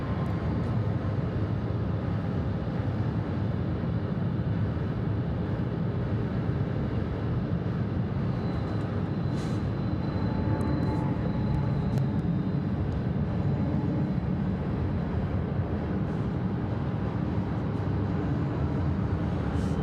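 Airliners and FedEx cargo jets arrive and depart at Atlanta Hartsfield-Jackson airport, producing a continuous, heavy engine rumble with a faint whine rising in the middle, heard at a distance without talk.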